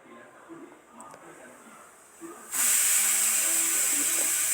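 Tamarind chutney paste for a traditional chintakaya thokku pachadi hits hot tempering oil with a sudden loud, steady sizzle that bursts in after a quiet stretch and holds to the end.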